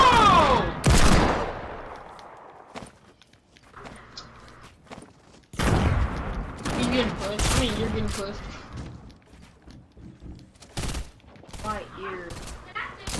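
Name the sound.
gunfire in the video game Fortnite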